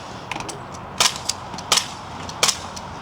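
Rifle shots through a SIG suppressor at a shooting event, heard as three sharp, muted cracks about three-quarters of a second apart, with fainter mechanical clicks between them, fairly close.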